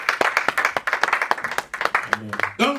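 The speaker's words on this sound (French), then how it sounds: "Clap for the Lord" A church congregation claps for the Lord during a service, a dense run of close hand claps with a speaking voice carrying over it.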